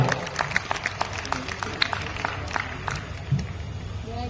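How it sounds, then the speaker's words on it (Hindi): Crowd at an outdoor Deoria Mahotsav festival in 2024 claps in a scattered patter under a general murmur of voices, moderately loud, with a few stray shouts. "दमदार तालियां बजाएं"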